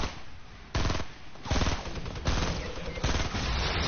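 Rapid automatic gunfire from the Fortnite battle royale game rattles out in several loud bursts of a few seconds total, close and dense with short gaps between volleys.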